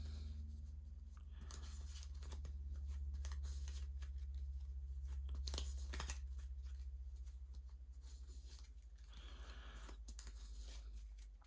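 Cards for the Arkham Horror card game are shuffled by hand at a table, soft repeated riffling and shuffling rustles over a constant low hum, with no talking.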